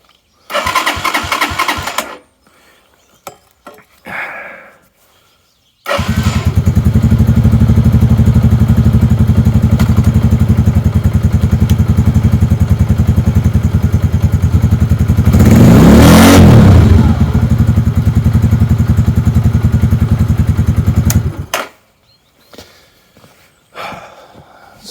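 A Lifan King motorcycle's starter motor cranks in a loud, sustained whirring burst lasting about fifteen seconds, with short quieter bursts before and after.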